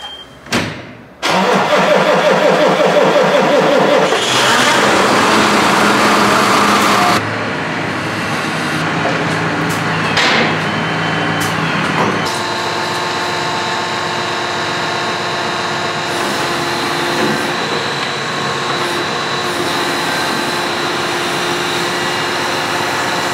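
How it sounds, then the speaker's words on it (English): A wood chipper is started and then runs alongside a crane, with Christmas tree wood loaded for chipping. The engine fires up abruptly and roars loudly at first, then settles into a steady mechanical drone with shifting tones and no voices. "I've got the chipper on, I've got the crane on, and I've got a load of wood which we're going to chip up"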